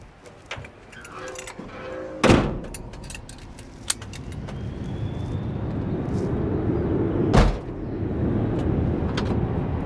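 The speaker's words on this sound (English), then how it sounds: "let's close the hood and we'll take you guys for a ride." Hood of a 1969 Dodge Polara 440 slams shut with a sharp metallic bang, after keys jangle near the start. A second loud thud follows later, over a rising roar that sounds like a distant aircraft.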